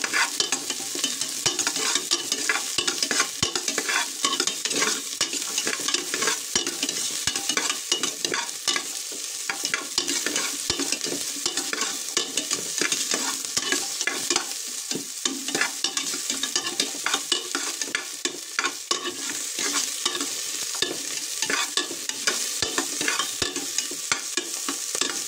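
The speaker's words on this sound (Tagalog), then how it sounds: "Magigisa muna po tayo ng sibuyas na pula, luya at" Red onion, ginger and garlic sautéing in a hot pan: a steady, close sizzle with frequent scraping stirs running throughout, no voices.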